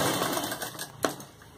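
A sewing machine stitches salwar fabric in a short steady whirring run, close and moderately loud, with a brief knock near the end and no voices.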